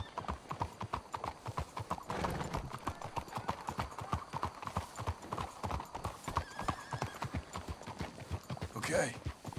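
Horse hooves clip-clop steadily on the ground in the Red Dead Redemption 2 video game, a brisk close rhythm that runs throughout, with a horse whinny near the end.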